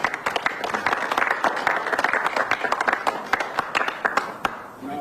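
An audience applauds at a political talk, a dense burst of many hands clapping with sharp, irregular slaps, loud and close, tapering slightly near the end.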